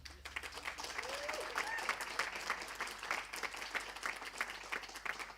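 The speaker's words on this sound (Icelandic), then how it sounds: "Gefum honum gott klapp." Steady applause from a crowd, dense clapping that holds at an even level throughout without pausing.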